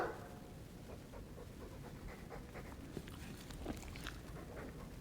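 A Mabari war dog in the Dragon Age 2 video game pants steadily for several seconds. The breathing is soft and continuous, with faint game ambience underneath.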